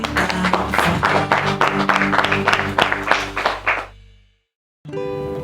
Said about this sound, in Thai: ปรบมือครับ ปรบมือครับ